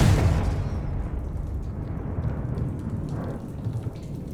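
The Confringo spell is cast in Hogwarts Legacy and bursts at the start as a loud, fiery blast. It then tails off into a sustained crackling, rumbling roar, like rain and distant thunder, that holds steady to the end.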